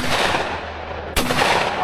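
A single sharp shotgun blast at a skeet shooting range in the Georgia mountains, loud and close, cutting through steady outdoor background noise.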